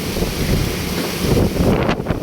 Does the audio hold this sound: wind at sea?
yes